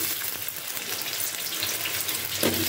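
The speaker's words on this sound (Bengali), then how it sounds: "সবার প্রথমে আমি আলুটাকে ভেজে নিচ্ছি এই তেলের মধ্যে।" Potatoes frying in hot oil in a wok give a steady, close sizzle and hiss that runs the whole time at an even level, with a slight rise near the end and no voices.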